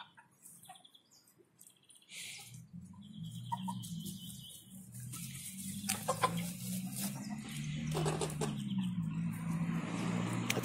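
Sussex hens cluck and murmur softly in a low, continuous chatter, with occasional sharper calls and a faint chirp, fairly close.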